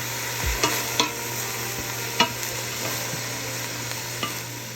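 Pink cabbage and onion stir-frying in a pan: a steady close sizzle with a few sharp clicks and scrapes from a stirring utensil, no voices.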